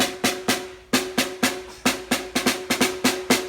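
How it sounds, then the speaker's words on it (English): Crisp snare hits with a buzzy, hissing rattle of wires after each strike, played in a steady pattern of about a dozen close strokes. "those little wires down there, they actually vibrate and they make their own sound"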